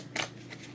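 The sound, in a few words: shuffling cards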